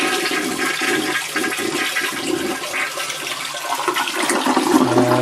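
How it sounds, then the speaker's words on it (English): A toilet flushes in a middle bathroom of a cottage being winterized, a loud, steady rush of water running close by for about five seconds with no talking. "the first thing I'm going to do is go ahead and just flush the toilet"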